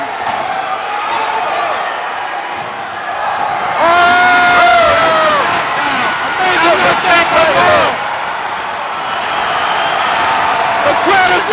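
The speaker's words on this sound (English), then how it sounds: "The crowd is loving it." Crowd at a combat-sport fight event roars and cheers, swelling loudly in waves with screams and whoops, a commentator's voice heard over it.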